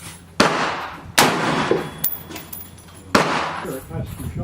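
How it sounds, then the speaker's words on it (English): Bushmaster ACR rifle fired outdoors at a range, three loud, sharp reports spaced about a second or more apart, each followed by a ringing tail, with some voices and handling noise between shots. "That's two shots."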